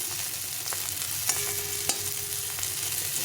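Parboiled bitter gourd rounds frying in oil in a pan, with a close, even sizzle and a few sharp clacks from stirring.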